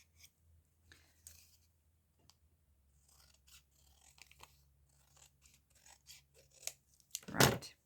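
Scissors trim a thick paint chip on cardstock, a series of quiet close snips and paper rustles ending in one louder crisp cut.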